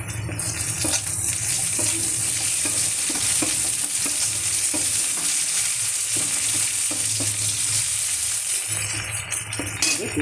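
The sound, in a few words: onions frying and being stirred in a pan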